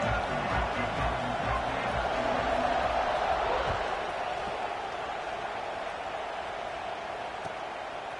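A stadium crowd in the CFB 26 football video game, Oklahoma vs Michigan, buzzes steadily as a dense, continuous roar that eases slightly toward the end.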